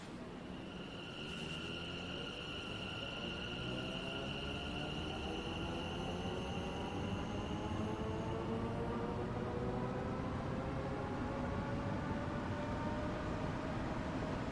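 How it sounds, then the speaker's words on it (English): A London Overground Class 710 electric train running at full throttle, with a steady traction whine climbing in pitch as speed builds and a constant wash of rail and wheel noise, continuous and close throughout. "That was in full throttle, that was."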